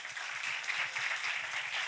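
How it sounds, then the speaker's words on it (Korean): A church youth congregation at a worship service gives a short round of applause for their group president, soft, even clapping heard at a distance throughout. "우리 회장님에게 박수 한번 합시다"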